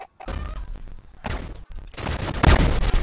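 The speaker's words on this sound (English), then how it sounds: "I'm getting some good sniper shots here" Gunfire rattles from the online egg-themed shooter Shell Shockers during sniper play, with bursts of loud, close shots separated by brief gaps and the heaviest blast near the end, with no voices.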